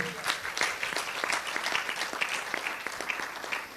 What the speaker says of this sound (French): Que quelqu'un acclame le Seigneur véritablement.